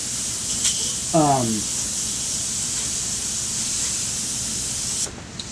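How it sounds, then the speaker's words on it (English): An airbrush sprays airbrush cleaner in a steady, close, loud hiss that lasts almost the whole time and cuts off abruptly near the end. A voice briefly speaks over it. "This is airbrush cleaner."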